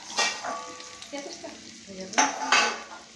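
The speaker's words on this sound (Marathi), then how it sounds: "तो लसूण कढईमध्ये टाकून चांगला तळून घ्यायचा" Garlic sizzles in a wok while a utensil stirs and scrapes against the metal in a few short bursts.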